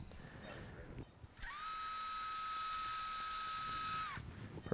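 A power driver places two locking screws into a plantar Lapidus fusion plate during first tarsometatarsal foot surgery, giving one steady high whine of about three seconds that starts and stops sharply, with faint operating-room murmur before it.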